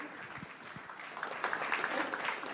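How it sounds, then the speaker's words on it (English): Conference audience applauds panel speakers taking the stage, a short, fairly faint patter of many hands clapping at a distance that grows slightly denser toward the end. "Please give them a big round of applause"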